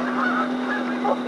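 Flightless molting geese on a river delta honk in a close, continuous nasal chorus, overlapping calls blending over a steady low tone.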